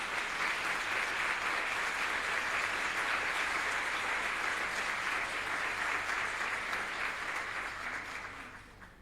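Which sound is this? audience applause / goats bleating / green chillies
audience applause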